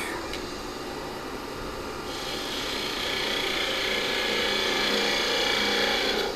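Mesquite wood being tapered on a lathe gives a steady rasping, scraping hiss that grows louder and brighter partway through, with no one speaking.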